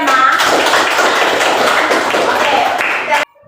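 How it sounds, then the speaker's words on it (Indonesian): A classroom bursts into applause for a student presenter, dense clapping from many hands that carries steadily for about three seconds before cutting off abruptly. "Tepuk tangan untuk Selma."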